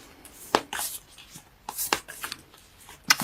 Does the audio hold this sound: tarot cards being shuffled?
yes